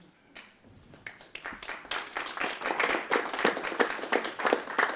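An audience applauds at the end of a panel discussion. Scattered claps build into dense, sustained clapping from many hands, with no talking.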